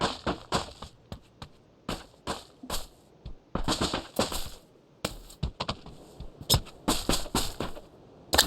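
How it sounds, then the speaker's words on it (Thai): Footsteps in PUBG New State, a series of quick, crisp taps in irregular clusters, fairly close and clear against a quiet background. "มีเสียงเท้าด้วย"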